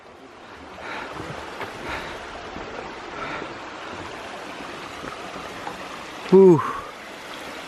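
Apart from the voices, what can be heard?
Falls Creek flowing under a bridge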